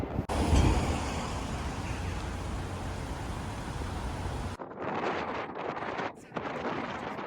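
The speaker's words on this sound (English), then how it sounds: "The wind got so strong here" Strong outdoor wind buffets the microphone on a coastal road trip near Oban, Scotland, a loud continuous roar that drops out abruptly partway, then returns in gusty bursts.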